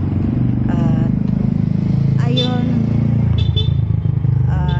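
A motorcycle with a flat tire runs with a loud, steady low engine rumble throughout, while people talk over it now and then.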